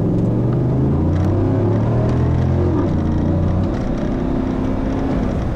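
2015 GMC Yukon Denali with its 6.2-litre V8 under hard acceleration, a low, subdued engine growl that climbs steadily in pitch, drops briefly at a gear change and keeps pulling, heard continuously from inside the cabin with no talk.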